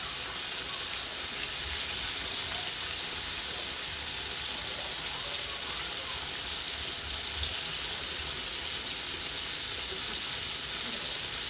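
Liver sizzling steadily in a frying pan, a continuous close crackle and hiss holding even for the whole stretch with no talk over it.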